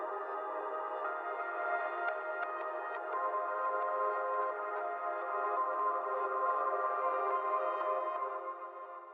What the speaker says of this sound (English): this reverse track sounds like this